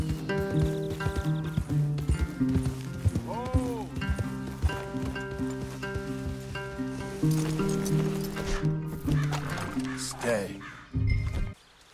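Horses clip-clop along at a walk in a Red Dead Redemption 2 woodland scene, hooves mixed under game music and occasional voices, with a brief snort or whinny.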